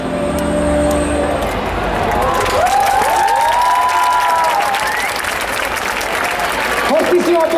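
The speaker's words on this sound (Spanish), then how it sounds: "¡Fortísimo aplauso!" Loud applause and cheering from a convention crowd at Gamepolis 2019 for a League of Legends Morgana cosplayer, with shouts and whistles rising over dense clapping and a voice calling out through the noise.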